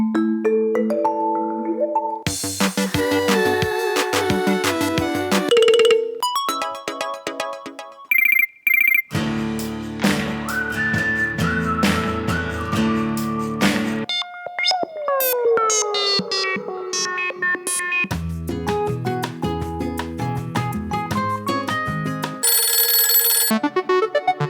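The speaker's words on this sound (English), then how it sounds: "I'll play you compilation of the ringtones that we are delivering for next year's portfolio" Nokia ringtones for the Lumia 800 phone play back to back: a varied run of loud melodic tones, chimes and electronic jingles separated by brief gaps, with no talking.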